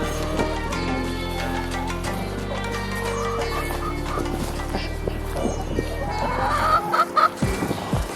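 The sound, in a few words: chickens clucking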